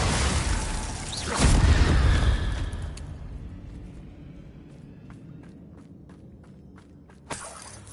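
A fiery Confringo blast spell goes off in the Hogwarts Legacy video game, a loud low boom that swells and fades over a couple of seconds, followed by quieter scattered clicks and a sharp thud near the end.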